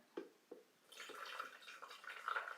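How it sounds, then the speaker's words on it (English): A couple of soft drips, then a steady stream of water pours and splashes into a container, fairly close and quiet. "All right, so I'm going to add my water."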